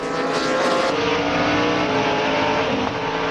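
Race cars at Sonoma Raceway accelerate hard off a corner side by side, engines roaring loud and continuous as they climb through the revs.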